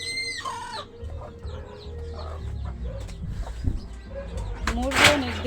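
A hen clucks among her newly hatched chicks, with high thin peeps throughout and a short louder squawk near the end, close by over a low background hum; a voice speaks briefly.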